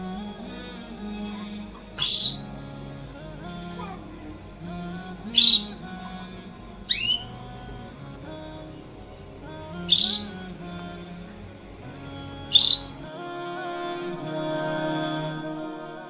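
A caged bird gives several short, sharp chirping calls at irregular intervals, fairly close, over a steady low background hum.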